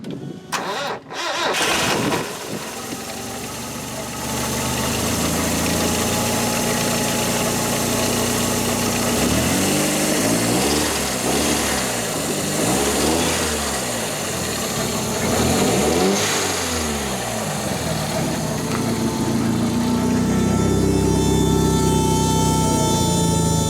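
A Nissan CA18DET engine cranks briefly and catches, then settles into a steady, loud idle close by. Several swelling revs rise and fall in the middle before it returns to a rough idle; no one speaks.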